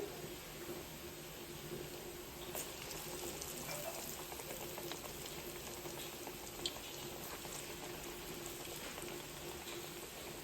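Steady, dense sizzle and bubbling of garelu (urad dal fritter) batter frying in hot oil in a kadai on a home stove, continuous and close throughout with no pauses.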